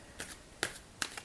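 A deck of playing cards is shuffled close by, three quick riffling bursts with soft snaps in between.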